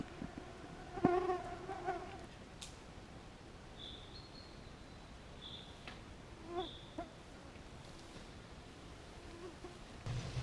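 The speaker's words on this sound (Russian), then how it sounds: "Вот такие вот озверевшие комары. Вот сколько их." Mosquitoes swarm in a forest on a hike near an abandoned pioneer camp, thin high whines drifting in and out close by, with a few soft knocks and a faint distant bird over quiet background hiss.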